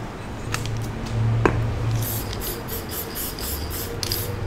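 Aerosol spray hissing onto alcohol ink coasters during embossing, several short bursts over a steady low hum, with a brief tap near the middle.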